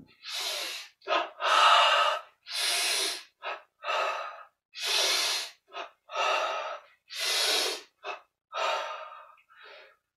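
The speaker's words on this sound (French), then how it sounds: "On inspire." Deep, close breaths during a guided yoga meditation exercise, drawn in and pushed out in a steady repeating rhythm, each breath a distinct airy swell separated by brief silences.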